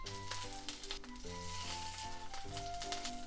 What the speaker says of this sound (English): So then I'm gonna cook this in oil like this and let the fat come out.